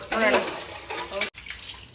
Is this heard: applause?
no